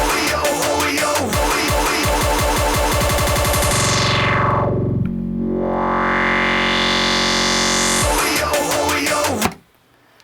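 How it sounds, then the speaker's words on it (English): Electronic dance track played on a Pioneer DDJ-1000 DJ controller with a 4-bar loop, loud and continuous, with a pumping beat that breaks into a long sweeping filter effect before the rhythm returns and then cuts out. "So right now I'm just going to set a 4-bar loop"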